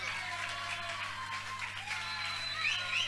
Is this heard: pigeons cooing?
no